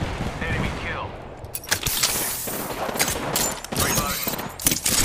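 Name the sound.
gunfire in a video game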